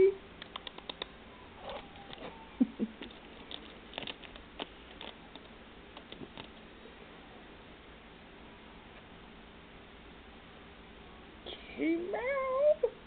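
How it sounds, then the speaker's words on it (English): A cat meows several times faintly among scattered small taps and rustles, then lets out louder, drawn-out meows near the end. "Kitty meow."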